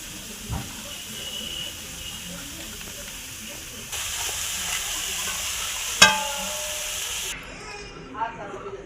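Fish paturi frying in mustard oil in a pan, a steady hiss and sizzle that swells louder midway, with a sharp clink of a spatula and a voice speaking over it before the frying drops off near the end.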